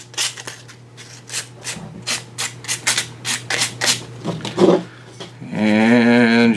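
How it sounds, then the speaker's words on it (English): Excess concrete filler is scraped and sanded off in a quick series of about a dozen rasping strokes over a low steady hum, followed by a brief tonal squeal. "I'm just going to scrape that out"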